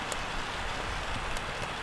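Steady rain falling in the Valle Argentera, a mountain valley, with an even hiss of drops on surfaces carrying through the whole stretch at moderate, constant loudness.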